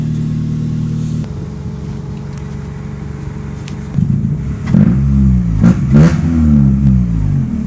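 A Honda Accord engine idles with a low drone, then revs up several times in rising, throaty surges, loud and close with no voices.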